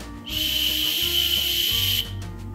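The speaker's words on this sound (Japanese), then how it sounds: "もともと持っていた笛を試してみたところ" A whistle kept for disaster preparedness is blown in one long, steady, shrill blast lasting nearly two seconds, loud and close, then cut off abruptly.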